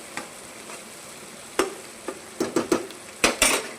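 Onions fry in a pan with turmeric and salt, stirred now and then for egg bhurji: a soft sizzle sits under scattered scraping clicks, which bunch into a rhythmic run of stirs near the end, with no talking.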